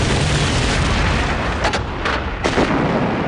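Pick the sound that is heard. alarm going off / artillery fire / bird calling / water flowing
artillery fire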